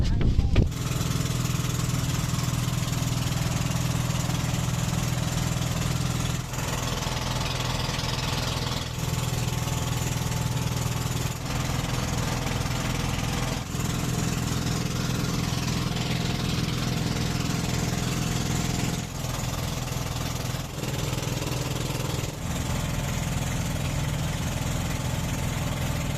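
A motorboat engine drones loudly and steadily from start to finish, a constant low mechanical rumble with small shifts in pitch, a passenger boat in the Philippines.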